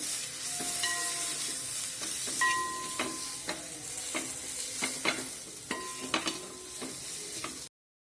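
Ground masala fries with onions in a pan for a Kerala-style beef fry while a spoon stirs it, giving a steady sizzle and repeated scraping clinks throughout with no voices.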